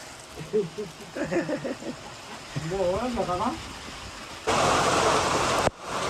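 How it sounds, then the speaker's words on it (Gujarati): Steady rain patters in the background while voices talk and sing briefly, then a burst of heavy, close rushing rain noise. "મિત્રો વરસાદ આવ્યો"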